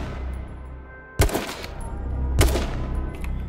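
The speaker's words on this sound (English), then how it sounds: "Another problem is that hipfire is way too accurate. This is just me hip firing randomly." Two loud hip-fire gunshots in the survival game H1Z1, sharp close blasts about a second apart over a steady background hum, with no talk.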